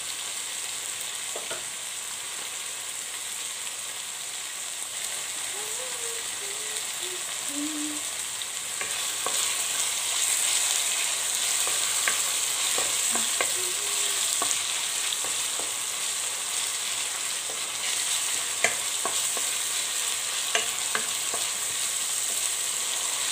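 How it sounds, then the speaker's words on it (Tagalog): Tomatoes sautéing in a pan, a soft steady sizzle with scattered scrapes and clicks of stirring, quiet and continuous throughout. "wait natin na gisa ng maigi yung kamatis. Yung talagang magluto na siya"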